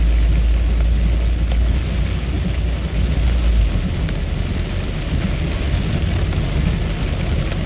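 Heavy rain pours steadily over Porto Alegre in early morning during an active cold front, a dense continuous hiss with a low rumble in the first half, no voices.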